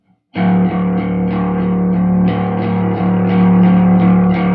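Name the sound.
bass low D with swept saturation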